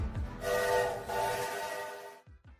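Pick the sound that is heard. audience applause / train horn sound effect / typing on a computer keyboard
train horn sound effect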